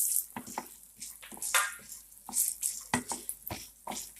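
Peanuts and a pinch of hing powder roasting in a pan for coconut chutney, with irregular scraping stir strokes and bursts of crackling over a steady background hiss.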